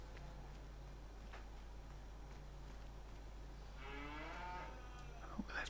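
Cows mooing in the Farming Simulator 25 dairy and cattle farm game, a drawn-out low moo rising near the end over a faint steady background hum.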